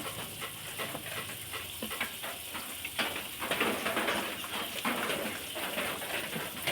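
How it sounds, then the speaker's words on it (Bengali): Cream balls fry in hot oil in a wok, giving a soft, continuous sizzle with crackling bursts, fairly faint, while rain falls heavily outside. "গরম তেলে ক্রিম বোলগুলো দেওয়ার সঙ্গে সঙ্গে ফুলে যাচ্ছে"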